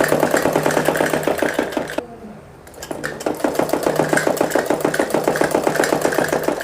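A sewing machine stitches a suit, its needle chattering in rapid, even bursts. It stops briefly partway through, then starts again and runs steadily at close range.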